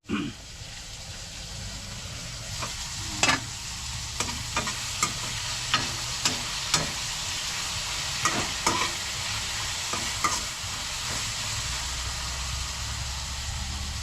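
Eggplant frying in a covered pan at breakfast, with a steady soft sizzle running throughout and scattered sharp clicks and taps of utensils and the lid.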